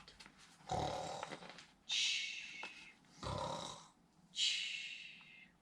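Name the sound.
snoring imitated by storyteller as the Gruffalo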